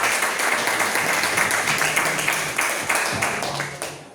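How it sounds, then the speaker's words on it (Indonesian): Audience claps for a student group returning to its table in a classroom, a brisk burst of many hands that stays fairly loud and then tapers off toward the end with no talking. "berikan tepuk tangan untuk kelompok 2"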